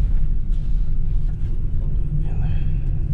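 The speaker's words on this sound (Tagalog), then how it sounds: "Lakas ng hangin" Strong storm wind batters an outdoor garden villa construction site, a loud, continuous low rumble that buffets and gusts steadily with no pauses.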